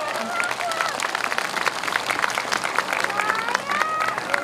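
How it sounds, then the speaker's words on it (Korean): A crowd at a 2023 outdoor Saturday stage show in Sacheon claps steadily and loudly, with voices calling out and talking over the applause throughout. "여러분 박수 한번 부탁드리겠습니다."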